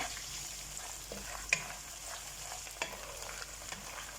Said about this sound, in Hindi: इसको हम हल्का सा और भूनेंगे